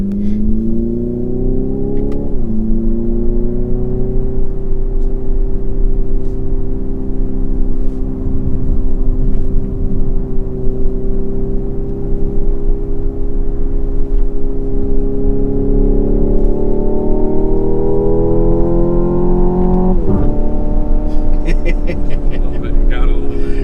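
A Hyundai Ioniq 5 N accelerates under full performance settings, its loud synthetic engine note climbing steadily in pitch with brief shift dips, sustained and close throughout.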